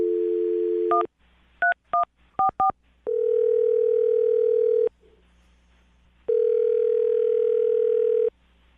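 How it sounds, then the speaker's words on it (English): A steady telephone dial tone during a radio show call, broken by a quick run of touch-tone dialing beeps, then the tone returns loud and close with brief gaps. "dial the phone number right now, get her on the phone"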